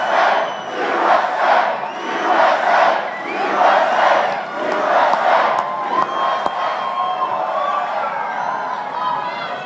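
A large crowd at an October 2018 political rally in Lebanon, Ohio roars and cheers in rhythmic, swelling waves of shouting and chanting, loud and sustained, with some whoops and whistles standing out.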